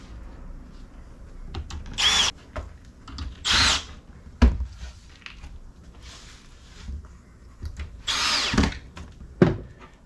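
A power drill drives four screws into an RTA cabinet in several short, close whirring bursts, separated by quieter handling noises and a sharp knock, with no talking.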